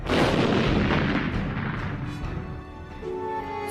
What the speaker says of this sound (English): Teams of troops operated an assembly line of ammunition, sending an endless succession of shells airborne.